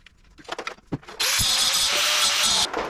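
A diamond blade cutter cutting steel tack welds on a Dodge Cummins body: a few knocks and clunks, then a loud, steady high-pitched grinding whine starts abruptly and runs for over a second before stopping.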